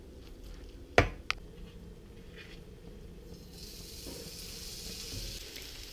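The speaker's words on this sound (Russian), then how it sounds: "Курочка дожаривается." Chicken breast with grated zucchini frying in a pan, a soft continuous sizzle with two sharp clicks early on, close and fairly quiet, with no talk.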